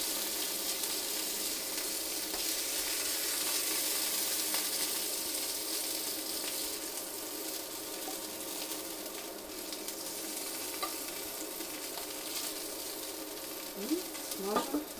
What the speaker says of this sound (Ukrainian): злегка обсмажили кролик